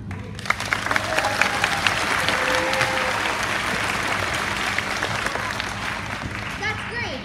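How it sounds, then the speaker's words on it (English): An audience at a fifth-grade spring school musical claps steadily and enthusiastically, sustained crowd applause with a few voices and cheers mixed in. "We also ask that you applaud generously when Weezy enters with the applause sign."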